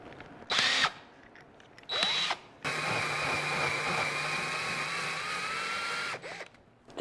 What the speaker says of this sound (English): We're gonna drill out the rivet on the other hinge and the handle.